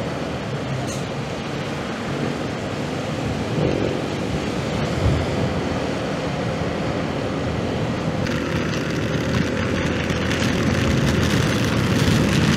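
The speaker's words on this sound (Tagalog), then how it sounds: "inuulan na po tayo" Heavy rain falls during a storm at a solo motorcycle campsite, a broad steady rush of noise mixed with gusting wind that swells louder toward the end.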